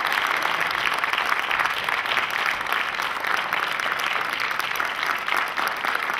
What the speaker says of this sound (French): Je voudrais qu'on l'applaudisse très fort